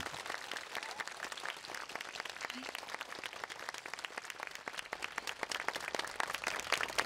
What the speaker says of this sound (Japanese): ではダンスチームの皆様に拍手をもう一度お願いいたします。